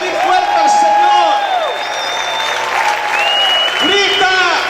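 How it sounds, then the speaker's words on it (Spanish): A church congregation claps and shouts together, loud and sustained, with raised voices and whooping cries riding over dense applause. "¿Cuántos pueden gritar y aplaudir fuerte al Señor?"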